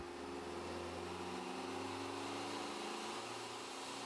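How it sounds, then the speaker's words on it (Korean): A tuned turbocharged car engine of about 403 horsepower revs, its exhaust holding a loud, steady, buzzing drone, its pitch staying nearly constant throughout. "슈퍼카 못지않은 소리를 내는 튜닝카의 배기음."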